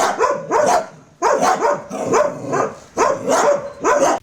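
Dogs at an animal shelter bark loudly and close by in repeated bursts of several barks with short pauses between them, without voices.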